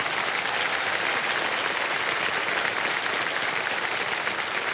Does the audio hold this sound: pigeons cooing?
no